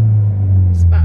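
Car engine with a Scorpion aftermarket exhaust held at about 3,500 rpm, a loud steady low drone with strong low harmonics that stays even for the whole second, with a brief hiss and a murmur of voices near the end.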